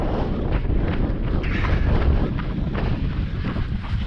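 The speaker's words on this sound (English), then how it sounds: "It's windy in it." Strong gusting wind at the mountain lake Llyn y Fan Bach in Wales buffets the microphone continuously, a loud low rumbling roar that never lets up.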